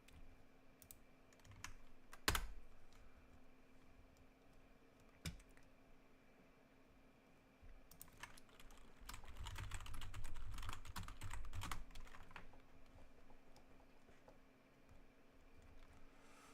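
Fast, furious clattering on a computer keyboard: bursts of rapid key clicks with a few sharp louder hits, close and faint, with a steady hum in the background.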